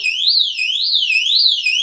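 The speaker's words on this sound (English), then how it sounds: "This alarm is 110 decibels." A piercing electronic pool alarm rated at 110 decibels wails loudly, its tone sweeping up and down in a fast repeating siren pattern, with no other sounds.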